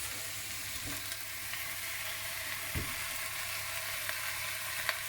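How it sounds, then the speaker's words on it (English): Vegetables and potatoes browning for a vegan stew in a hot pan give a soft, steady frying hiss with a few faint knocks, quiet and continuous with no talking. "you want it hot right now because you want to really brown the vegetables"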